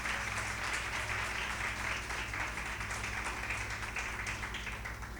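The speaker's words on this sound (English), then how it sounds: "Can we have another huge round of applause for all our prize winners?" Audience applauding prize winners at a college Founders Day ceremony, a dense, continuous wash of clapping from a large crowd, steady throughout and fading slightly at the end.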